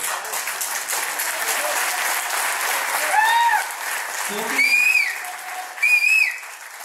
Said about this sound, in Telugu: ఏదో ఒక మూల నుంచి చప్పట్లు కొడుతున్నాడు